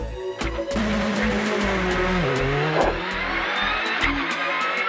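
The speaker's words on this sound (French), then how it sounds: "a décidé d'initier la géantiste Tessa Worley à l'art des virages et des sensations fortes, mais avec un moteur cette fois" A rally car driven on a course revs hard and accelerates, its engine note climbing and dipping through gear changes, loud and close, with a brief tyre scrub and no talk.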